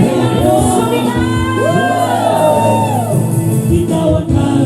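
A church congregation shouting and cheering together at an anniversary service, a loud, dense wave of overlapping voices and rising whoops that carries on without a break.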